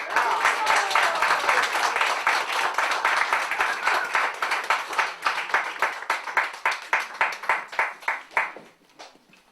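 An audience applauds loudly for several seconds, the claps thinning into a few slower, distinct claps before fading out.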